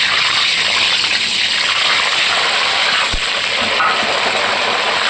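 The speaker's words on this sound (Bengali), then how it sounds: "প্রথমে আমি কিছু আলু এর মধ্যে ভেজে নেব।" Potatoes frying in about 250 grams of hot oil for a mutton and potato curry, giving a steady, loud, dense sizzle and hiss that holds evenly throughout with no talking.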